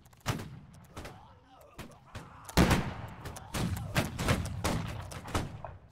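Repeated musket volleys crack out in a Napoleonic-era line battle in Holdfast: Nations At War, sharp bursts of massed gunfire arriving in uneven clusters, near and loud, with scattered shots between and a voice talking at times.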